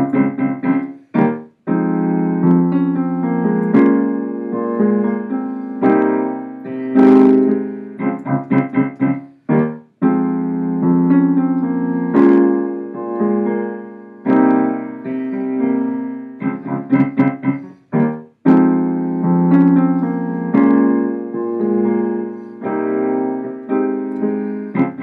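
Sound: piano playing chords

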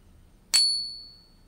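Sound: silver piece ringing on a ping tester

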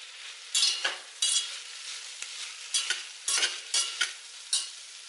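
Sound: onion, green chili, ginger and garlic sautéing in a pan

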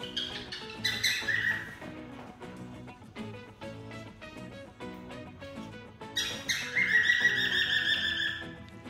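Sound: birds chirping at a zoo in the morning

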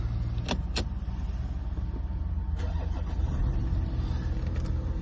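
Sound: Volkswagen Touareg 2015 3.0 diesel engine starting

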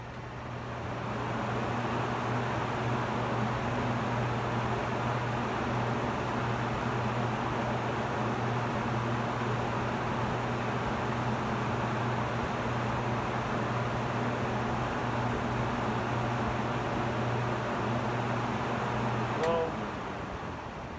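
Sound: vintage Zayre (Hunter) box fan running on high speed

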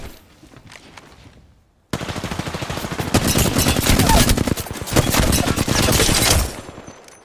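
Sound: gunfire in a video game shooter (ranked lobby)

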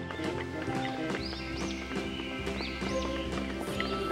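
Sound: horse neighing and clip-clopping

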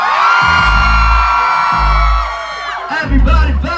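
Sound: crowd screaming at a concert

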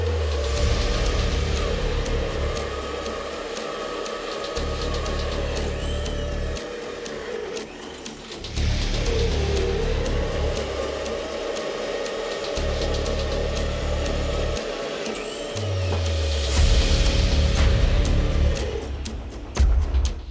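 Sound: drilling holes with a cobalt drill bit

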